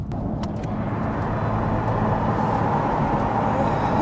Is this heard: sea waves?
no